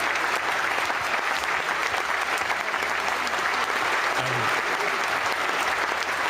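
Sustained, dense applause from a large church audience, an even roar of many hands clapping without pause throughout, fairly loud and close.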